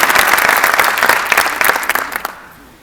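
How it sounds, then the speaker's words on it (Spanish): A live audience at an evening talk claps warmly for newcomers, a dense burst of hand claps with a few crowd murmurs, loud and close, fading out over the last moments. "Démosles un aplauso."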